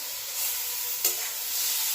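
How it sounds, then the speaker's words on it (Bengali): Eggplant frying in fish oil on a home stove, a close, even hiss of sizzling held throughout with a single brief clink near the middle. "বেগুন দিয়ে আর এই মাছের তেল দিয়ে রান্না করছি"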